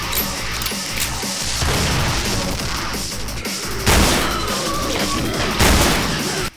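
Repeated flare gun shots fired in the video game Killing Floor during a firebug match, loud booming bursts over steady busy game noise, with two or three heavy blasts standing out.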